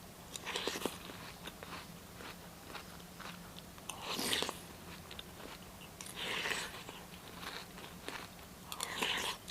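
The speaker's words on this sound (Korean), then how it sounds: "되게 아샥아샥하다." Crisp crunching bites of chocolate Kkobuk chips with milk repeat every couple of seconds close to the mic, quiet and dry, with soft chewing between them.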